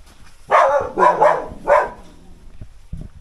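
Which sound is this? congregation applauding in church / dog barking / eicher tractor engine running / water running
dog barking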